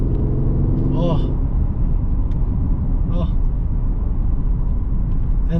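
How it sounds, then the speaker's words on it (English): A Mercedes ML63 AMG engine rumbles low and steady from inside the cabin, a constant throaty drone heard under a voice. "the noise this car makes, it's dirty"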